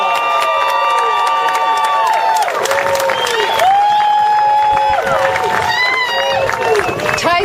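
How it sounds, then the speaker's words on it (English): A crowd at South Seattle Community College greets Patty Murray with loud cheering and shrill whistles, mixed with clapping and excited voices, a lively, sustained burst of noise. "Please give her a round of applause."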